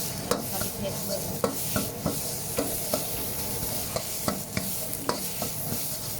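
Homemade Thai red curry paste fries in a pan over high heat, hissing steadily up close while a utensil stirs it with regular scraping taps about once a second.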